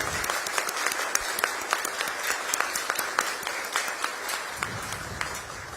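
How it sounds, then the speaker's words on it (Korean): A large crowd applauds steadily at a welcome for the South Korean president on a state visit to India, a dense wash of clapping that continues without a break. "뜨거운 박수로 우리 이재명 대통령님 네 분을 환영해 주시기 바랍니다"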